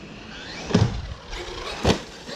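Electric motor of a Traxxas Maxx RC truck revving in two short throttle bursts roughly a second apart, each a brief whining rise that fades quickly over light background noise.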